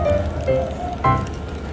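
Steady rain falls in Yufuin, Japan, a dense continuous patter on surfaces with a few faint tonal hums underneath and no voices.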